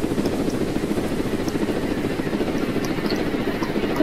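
A drone flies in Roblox Jailbreak, a steady loud rotor-like buzz with a fast pulsing flutter that holds throughout, with no speech over it.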